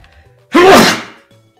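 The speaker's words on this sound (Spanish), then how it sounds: "Qué fuerte estornudo, tengo que arreglar eso." One loud, sharp human sneeze up close, an abrupt explosive burst that trails off within about half a second, with faint background noise before and after.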